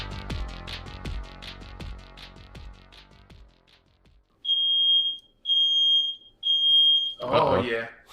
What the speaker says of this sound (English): Did you just set off a fire alarm?